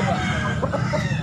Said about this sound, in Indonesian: Ini jenis ayam papoy.